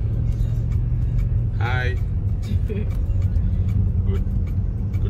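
A car is being driven, heard from inside the cabin as a constant low engine and road rumble, with someone speaking briefly over the drone.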